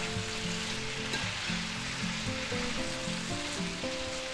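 Onions sizzle steadily in a frying pan as they soften for pepper steak, a constant close crackle with soft scraping from stirring and a faint tonal hum underneath, no talking.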